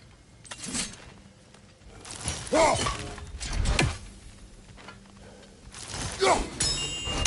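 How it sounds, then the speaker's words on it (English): Kratos's thrown axe strikes a set of chimes in God of War Ragnarok, giving several separate shattering metallic clangs with ringing tails and quiet gaps between them. "Simply throw your axe and strike the chimes, and I will attend to your needs."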